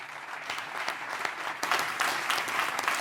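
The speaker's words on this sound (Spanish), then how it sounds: "txalo bero bat" A crowd at a public forum event claps steadily, the applause swelling slightly louder partway through and continuing to the end.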